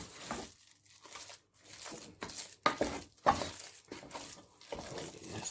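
Chicken shami kebab masala being stirred and mashed with green coriander in a bowl, soft irregular squelching and scraping strokes, fairly quiet and close, with no talking.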